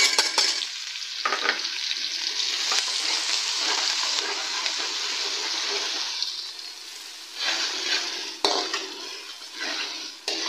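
Onions, garlic, ginger and green chillies fry for nihari, a steady bright sizzle close by, broken by spoon stirring and scraping against the pot, with no talk.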